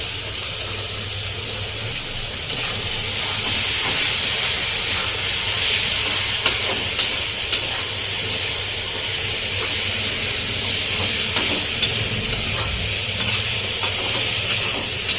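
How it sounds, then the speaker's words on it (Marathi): Pavta bean curry stirred and sautéed in a black iron pan, a continuous loud sizzle and hiss with occasional scraping clicks of the spoon against the pan. "ही भाजी तुम्ही जेवढी जास्त परतणार तेवढी छान लागणार"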